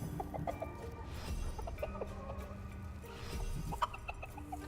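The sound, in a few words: chickens clucking in the video game Dungeons 4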